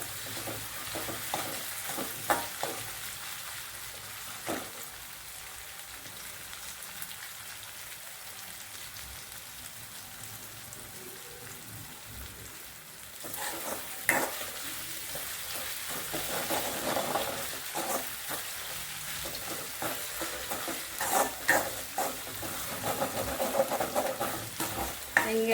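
Chopped ginger sautéing in oil in a pan for pickle, a soft continuous sizzle with scraping stirs of a spoon, growing louder and busier in the second half.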